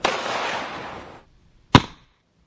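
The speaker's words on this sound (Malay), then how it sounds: "ujian tembakan dengan menggunakan peluru jenis kaliber .45mm full metal jacket dari jarak 5 meter ke atas balastik helmet" A .45 full metal jacket round is fired from 5 meters at a ballistic helmet: a hissing noise fades out, then after a short silence comes a single sharp, loud crack that dies away quickly.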